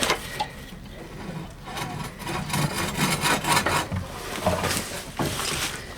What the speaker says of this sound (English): Using a bow saw because my chainsaw and my sabre saw both broke